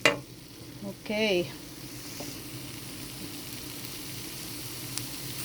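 Onion, garlic and ginger fry in a pan with a soft, steady sizzle that runs throughout, while a voice speaks briefly near the start.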